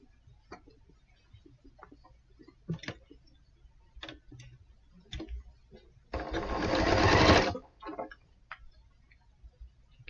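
A sewing machine stitches quilt block seams in one loud, steady burst of about a second and a half, set among scattered soft ticks and handling clicks.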